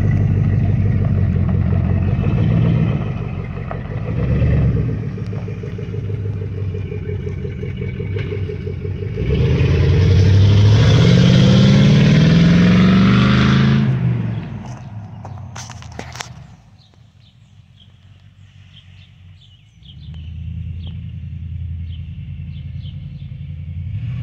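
Cadillac Escalade on newly fitted rims driving down the road, a low rumbling pass that swells loud in the middle and fades away, followed by quieter background rumble.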